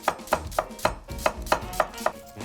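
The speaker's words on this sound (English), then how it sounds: "And just slice some onion." A knife slices thinly through an onion on a cutting board in a kitchen, nine crisp, evenly spaced cuts in quick succession, close and loud with no talking.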